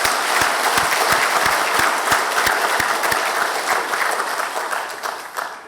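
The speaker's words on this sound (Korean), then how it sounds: "이 시간 만나기 힘든 친구들인데 큰 박수로 격려해 주시죠" Church congregation at a Sunday service clapping loudly to encourage middle and high school students, a dense burst of many hands with a few sharp near claps that tapers off at the end.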